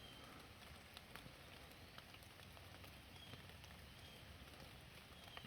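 Rain falls softly and steadily in a sandy fossil-hunting spot during a thunderstorm, a faint patter of drops on the surface with scattered small taps, heard alone at low level.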